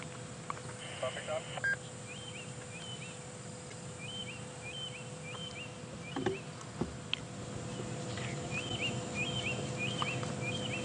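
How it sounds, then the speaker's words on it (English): Starlings and a white-browed scrub robin call in the bush at sunrise on a safari drive, with short, repeated whistled phrases that come in bursts over a soft, steady outdoor background. "Some beautiful birds calling, the starlings, and it sounds like a white-browed scrub robin calling."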